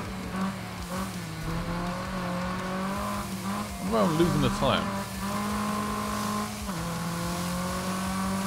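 Rally car in the Gravel racing game, its engine holding a steady drone with shifting revs and a brief burst of tire squeal midway, while someone talks over it.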